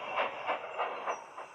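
A small steam tram chuffs along at a steady pace, with five even, hissing puffs of exhaust over a soft rumble.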